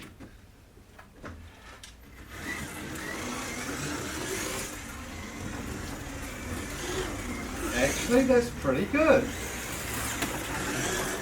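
A Scalextric Ford Mustang #18 slot car, Clipsal 2011 C3671, runs on the track without its magnet and with untrued tyres, a soft whirring motor that builds and circles with brief louder surges, while someone talks over it.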